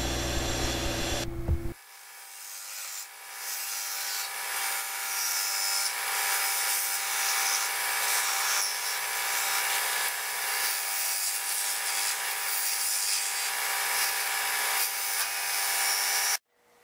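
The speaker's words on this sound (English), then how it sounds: "I am now forming the tenons with a beading and parting tool." A burl box turns on a Powermatic wood lathe while a beading and parting tool forms the tenons, giving a loud, continuous hissing cut that runs unbroken for about fifteen seconds before cutting off.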